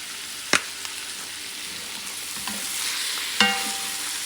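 Lamb stew with black pepper frying in a pan, a steady close sizzle with two sharp clinks of a utensil as it is stirred, and no talk.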